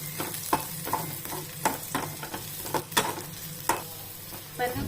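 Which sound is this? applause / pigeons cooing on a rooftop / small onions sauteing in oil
small onions sauteing in oil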